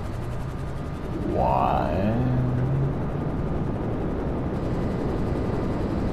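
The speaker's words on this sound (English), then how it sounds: "The same jet. What is it? Helicopter, whatever it is, sounds like as if it's just here." A jet or helicopter flies close by in Grand Theft Auto 5, a loud, steady engine roar with a rising then falling whine as it passes overhead, and a brief voice speaks over it.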